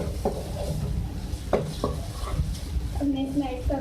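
Chicken tikka masala filling stirred in a pan with a spoon, giving a few sharp scraping clinks against the metal over a low background hum.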